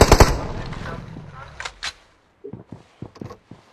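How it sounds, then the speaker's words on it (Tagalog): Gunfire rings out in a video game: a loud burst of rapid automatic shots opens, followed by scattered single shots and short sharp volleys at a distance. "Sabi, pumutok daw dito."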